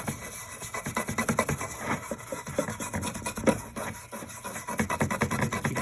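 Polishing compound rubbed by hand onto a plastic garden solar light cover, heard as fast continuous scrubbing strokes in a steady rhythm close to the microphone, alone without talk.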